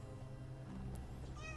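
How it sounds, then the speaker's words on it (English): A pet cat lets out a single drawn-out meow close by over a steady low hum, ending on a rising note. "That's my cat."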